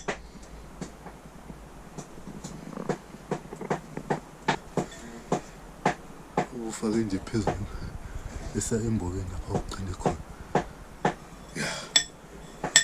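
Sharp, repeated metallic strikes ring out at an irregular rhythm as hand tools drill rock in a South African gold mine, with voices and scuffling underneath.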